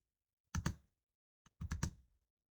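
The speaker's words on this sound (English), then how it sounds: "We will go to the Excel workbook and then add a new column, and we will type duration in column K6." A computer keyboard is typed on in two short, close bursts of a few keystrokes each, separated by a brief silence, with near silence around them.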